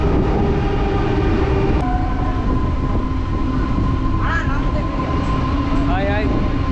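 Yesvantpur–Jaipur Express train at Dabaspete station: a heavy, steady rumble of rolling railcars close by, with faint squeals and tonal bursts riding over it.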